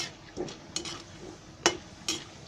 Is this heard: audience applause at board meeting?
no